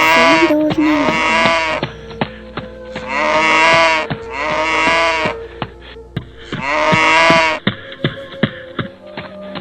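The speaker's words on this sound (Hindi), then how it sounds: "रामू गाय की आवाज सुनकर जोर से दौड़ने लगा।" A cow moos several times in long, loud, drawn-out calls with short pauses between, close and clear, in a Hindi cartoon story scene, with no talking over it.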